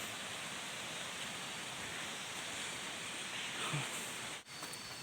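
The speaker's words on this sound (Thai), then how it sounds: "ระหว่างทางเดินก็จะยินเสียงน้ำตกเรื่อยๆนะ" A steady, broadband rush of falling water, like a waterfall heard from a distance along a forest trail at Khao Sip Ha Chan in Chanthaburi, continuous and even throughout with no voices over it.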